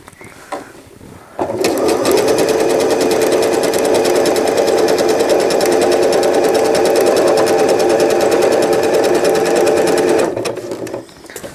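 A sewing machine stitches elastic onto a fitted crib sheet in one long, loud, steady run of fast mechanical whirring lasting about nine seconds, starting and stopping abruptly with quiet handling sounds around it.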